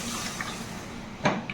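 Water poured into a pan of chilli-powder masala for a stingray curry gives a soft, steady wash with a brief splashing burst near the end.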